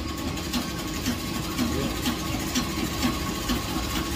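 A sewing machine stitches a saree blouse with a soft, regular rapid clatter, fairly quiet and steady with no talk.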